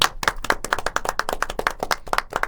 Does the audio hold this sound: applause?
yes